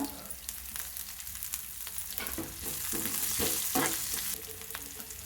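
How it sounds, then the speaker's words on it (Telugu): Onions, garlic, cumin, curry leaves and dried chillies fry in hot oil, a close, steady crackling sizzle with the scrape and clatter of stirring. "కరివేపాకు ఎండుమిర్చి బాగా వేగనివ్వాలండి"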